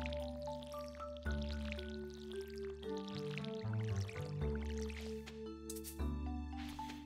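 A watering can pours onto crops in Stardew Valley, with soft splashing drips layered under steady, tonal game music throughout.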